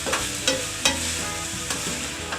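Sausage meat browning in a frying pan for sausage gravy, producing a dense, loud, continuous sizzle with a few sharper spatula scrapes poking through, and no one talking.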